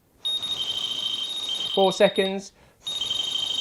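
A Delkim carp fishing bite alarm sounds on a run with a steady, high electronic tone up close, broken for a moment while someone talks over it before the tone resumes.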